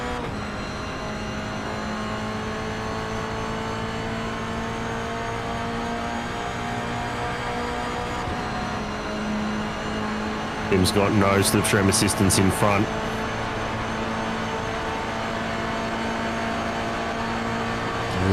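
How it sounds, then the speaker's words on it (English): Toyota GR86 race cars with boxer engines run flat out in top gear at Monza, a steady engine drone throughout with a louder, nearer car rushing past midway, under continuous race commentary. "Listen to these boxed engines wring their necks in top gear."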